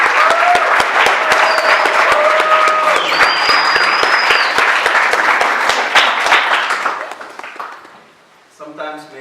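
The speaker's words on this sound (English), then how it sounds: "But another round of applause for both" A dense crowd applauds loudly and steadily at a live exhibition event, with cheers and whistles rising above the clapping before it thins out and fades near the end.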